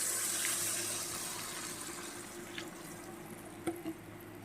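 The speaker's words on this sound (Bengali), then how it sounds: "এই পর্যায়ে আমি দিয়ে দেব পরিমাণ মতন জল" Water being poured into a cooking pan partway through making a spicy bhola fish curry with eggplant, a steady, fairly loud rushing pour that gradually settles, with a couple of small clinks near the end.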